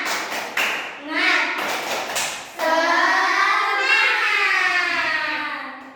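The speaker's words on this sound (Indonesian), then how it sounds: "Tepuk semangat." Classroom of third-grade children clapping a patterned spirit clap in unison, a few sharp claps at the start followed by a sustained burst of loud collective clapping and voices, close and filling the room.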